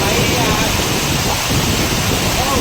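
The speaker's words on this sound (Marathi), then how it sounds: "खूप जास्त पाऊस सुरू आहे ॲक्च्युली" Heavy rain at Naneghat pours down as a dense, continuous roar with no let-up, and no distinct thunderclap stands out.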